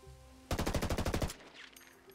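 Rapid burst of automatic fire from an ACR assault rifle in Ghost Recon Wildlands, roughly a dozen sharp, evenly spaced shots in quick succession, loud and close, followed by a brief mechanical tail and quiet.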